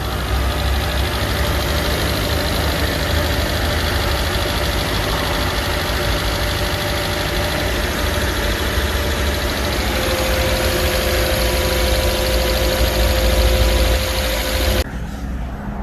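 A used crossover's engine idles steadily and loudly nearby, a continuous mechanical rumble with a faint knocking texture that dips slightly near the end.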